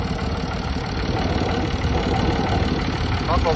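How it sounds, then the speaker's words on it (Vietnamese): A Kubota M1 55 tractor's three-cylinder engine idles steadily with a low, continuous rumble, loud and close throughout. "Tiếng nổ đặc trưng của dòng ba máy này nha các bạn."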